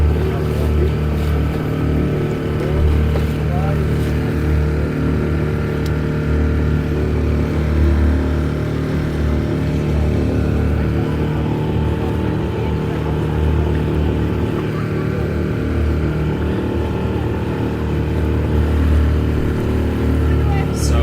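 A crowded boat's engine drones steadily and loudly at close range in Malta, a constant low rumble with water and wind noise that holds for the whole stretch, with no clear talk over it.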